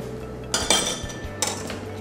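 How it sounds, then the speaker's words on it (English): A spoon clinks and scrapes against a pan while tomato concassé is stirred, giving a few sharp metallic knocks over a quiet kitchen background. "Just going to stir that through, just to start this warming up."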